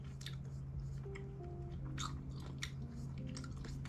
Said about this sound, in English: if you hear a chewing sound, I'm chewing on gum so I can focus better